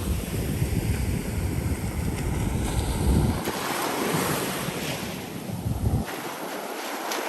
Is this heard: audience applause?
no